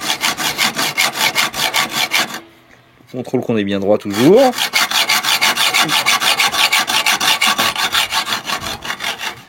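A hand saw cuts through a bicycle fork steerer tube during a gravel bike workshop conversion, steady rhythmic back-and-forth rasping strokes close up, briefly pausing while a voice speaks, then resuming.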